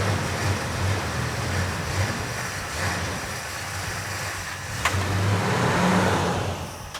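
A Plymouth Superbird, Richard Petty blue edition, with its engine running at a steady, close rumbling idle under a hissy wash of noise, and a brief sharp knock partway through.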